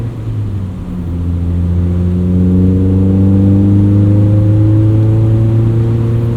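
A modified 2003 Mazda MX-5 Miata's exhaust drones steadily under acceleration, a loud, smooth engine tone rising gradually in pitch, heard from inside the car with no talking.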